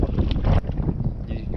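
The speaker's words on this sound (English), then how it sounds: "Sorry for the wind noise if there is any." Gusty wind buffets the microphone while kayak fishing on a pond, heavy low rumbling blasts that drop off abruptly partway through, close and loud.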